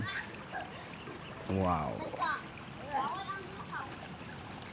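Clear spring water trickles and flows softly at Milusok Spring in Quezon, Bukidnon, a steady murmur beneath a voice speaking nearby.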